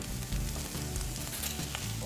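Chopped onion frying in olive oil in a restaurant kitchen pan, making a steady, dense sizzle that stays even and close throughout with no voices over it.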